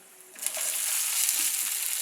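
Asafoetida and dried red chillies hit hot oil for a tempering, bursting into a steady, close, crackling sizzle that holds evenly after a quick rise.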